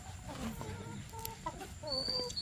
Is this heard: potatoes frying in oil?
no